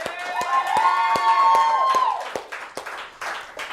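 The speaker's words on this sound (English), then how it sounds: "So a round of applause for Francesca." A few scattered hand claps for Francesca, sharp and isolated at first, with a sustained tonal sound underneath for the first two seconds, then thinning into sparse, quieter claps.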